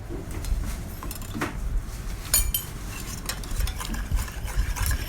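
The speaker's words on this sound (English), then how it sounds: "The solution was stirred thoroughly until all the salt was dissolved." Salt being stirred into water, a utensil scraping and clinking against a container in quick irregular strokes, close and moderately loud.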